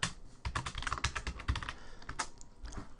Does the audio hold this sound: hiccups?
no